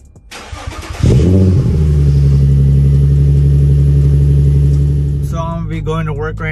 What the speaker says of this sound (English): Let's get a little cold start for you guys.